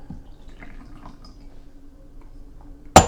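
Ripe tea from a Haiwan poured for the second infusion, a quiet, faint trickle and light drips close by, ending in a sudden loud clatter, with no talking.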